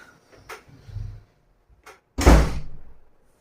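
A door is closed in a home: a few light knocks and rattles, then one loud, close slam and a short dull ring that fades out.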